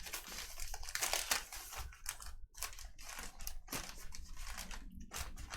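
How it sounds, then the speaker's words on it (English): Packs of baseball cards being shuffled by hand, close crinkly foil-wrapper rustles and crunches in uneven bursts, with brief quiet gaps between handfuls. "Let's shuffle these up. This is my scientific shuffling method here."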